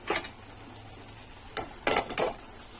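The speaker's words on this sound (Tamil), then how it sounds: "இப்போ நம்ம எடுத்து நம்ம பக்கத்தில் வேக வச்சுருக்க புடலங்காய்க்கெல்லாம் சேர்த்துருவோம்." Boiled snake gourd is tipped into a pan of fried onion and tomato, giving a few close clinks and scrapes of utensil against the pan with short pauses between them.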